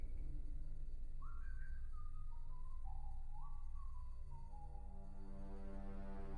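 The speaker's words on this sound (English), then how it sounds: "They're whistling that like go to sleep thing." A whistled lullaby in a video game drifts along in short melodic phrases, faint and steady over a constant low hum, with no voices present.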